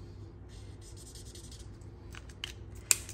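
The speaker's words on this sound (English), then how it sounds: "because we're cutting them out with our scissors" Scissors snip through Designer Series paper in a few quiet strokes, with soft scratchy rustling and a sharp click near the end, close and faint.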